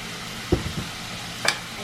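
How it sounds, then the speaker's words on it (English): Tomatoes seasoned with salt and pepper cook in a pan for a Tuscan chicken dish, a steady soft sizzle running throughout, broken by two or three brief utensil knocks against the pan. "I'm just going to cook this until the tomatoes are softened."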